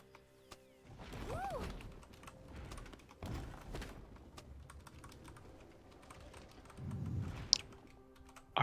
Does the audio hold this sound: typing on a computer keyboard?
yes